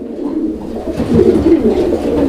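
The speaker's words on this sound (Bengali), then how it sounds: "নরের ডাকটা দেখছেন ডাকের গেট আপটা দেখেন আপনারা" A male black Lahori pigeon coos in a close, loud, continuous run of throaty rolling calls that swell louder partway through, heard alone without talk.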